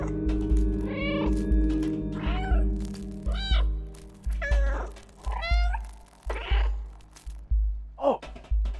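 A cat meows in the video game Stray, a series of distinct, clear meows repeated at a steady pace over a low droning game soundtrack, close and loud, with no talking.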